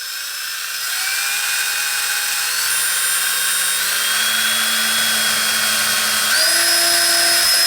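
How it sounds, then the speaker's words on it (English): A power drill whines steadily and loudly, its pitch stepping upward in stages as it bores a hole for a Tortoise model railway switch machine without pause. "Got my hole drilled out."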